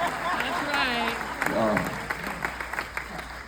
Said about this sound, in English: That's worth applause, by the way.